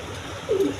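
A pair of Danish pigeons, a breeding pair, gives one short soft coo close by, rising briefly over a quiet low background.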